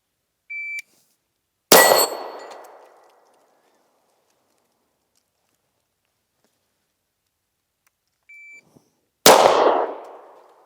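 A shot timer gives a short beep, then a loud Sig P320 X Carry pistol shot rings out with a decaying echo. A pause follows, then a second beep and another single close shot.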